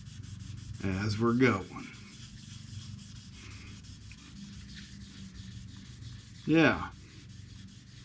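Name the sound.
wet sanding car paint runs with 800 grit sandpaper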